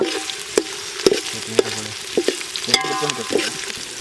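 Sliced onions and thin green chilies are stirred in a frying pan at a village cooking session, with sharp clanks of the utensil against the pan recurring every half second or so over a low sizzle.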